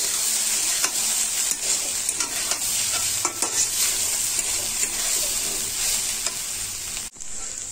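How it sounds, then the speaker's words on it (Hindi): Cauliflower stuffing with green coriander frying in a pan on the gas for gobi paratha: a dense, even sizzle with repeated scraping stirs, close up, cutting off abruptly near the end, no voices. "गोभी को हरा धनिया के साथ 2 मिनट तक फ्राई करेंगे।"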